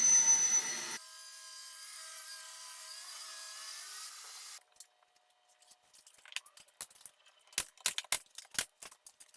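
A saw rips wood pieces for the upper frame of a fireplace mantel surround with a steady, loud whining cut for several seconds. It then stops, followed by scattered light clattering and knocks.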